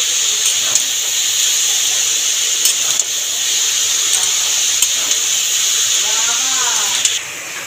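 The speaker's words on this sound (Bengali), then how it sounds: "মশলার সাথে নেড়ে চেড়ে মিশিয়ে নেবো ভালো করে বাঁধাকপিটাকে" Boiled cabbage being stirred and tossed with spices in a hot pan, a loud continuous sizzling hiss with occasional scrapes and clicks, close by, and a faint voice near the end.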